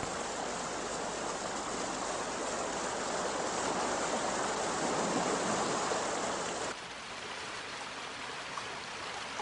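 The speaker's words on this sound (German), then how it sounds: "Ah ja, dafür gibt's den Wasserfall." A mountain waterfall roars as a broad, continuous rush of falling water, steady and fairly loud, then drops suddenly to a softer, more distant flow for the last few seconds.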